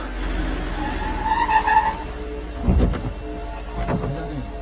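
A car skids and brakes hard to a stop, with a tire squeal followed by two short thuds and noise from the vehicle, over a low rumble, with no speech.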